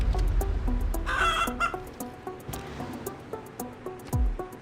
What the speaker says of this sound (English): Is that a chicken noise?